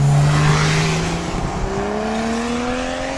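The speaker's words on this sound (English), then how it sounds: "Oh shit, HELLCAT." A Dodge Hellcat accelerates at a cars and coffee meet, its engine note climbing steadily as it pulls away under a constant roar of surrounding traffic and crowd noise.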